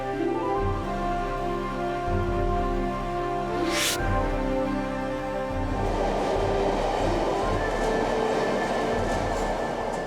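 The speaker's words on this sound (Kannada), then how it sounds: "ಎಂತ ಮೆಟ್ರೋ ಟ್ರೈನ್ ಗಾಳಿಯಲ್ಲಿ ನಡೆಯುತ್ತೆ" An elevated metro train in an animated cartoon rumbles past with a steady mechanical drone, a brief whoosh in the middle, then a rushing, rattling noise as it continues along the track.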